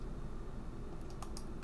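A date is typed on a computer keyboard in a quiet room: a short run of faint, light key clicks over a steady low hum.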